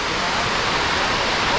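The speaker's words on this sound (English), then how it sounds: "I think that's the biggest waterfall we've seen in Thailand so far." A huge, ice-cold waterfall in Thailand roars as a dense, continuous rush of water, loud and close enough for its spray to be felt.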